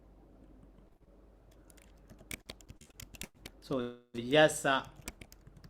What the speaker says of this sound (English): okay, I type here